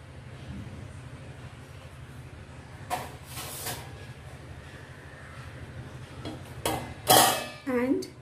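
A lid set down over a pan of raw banana koftas frying on the stove, giving a couple of sharp metallic clinks and a brief rattle near the end, above a steady low sizzle and hum.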